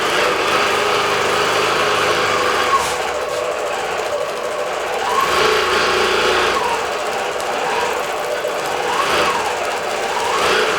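A digital quilting sewing machine fitted with jersey stretch needles stitches at speed, giving a loud, continuous mechanical whir with rising and falling sweeps as it travels across the fabric.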